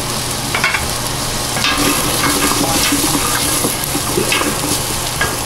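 Vegetables sweating in hot oil in a pan, a steady close sizzle with occasional stirring scrapes and light clinks of a utensil, no voices.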